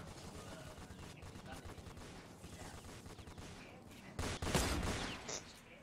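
Gunfire in the Roblox game Fortnite Simulator, with a quick string of faint sniper-style shots under a low game bed and then a louder burst of cracks near the end.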